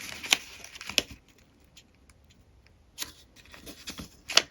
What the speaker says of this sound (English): Now we open it out, turn it, and now we're going to fold this side up to the middle